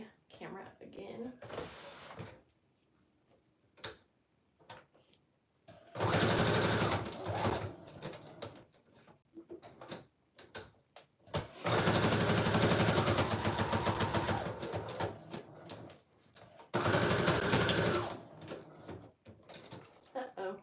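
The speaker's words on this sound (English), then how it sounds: "I'm just gonna sew around three edges so there'll be a little side pocket" Sewing machine stitching around three edges of fabric to form a side pocket, three bursts of steady, fast mechanical whirring with pauses between them, under and between quiet talking.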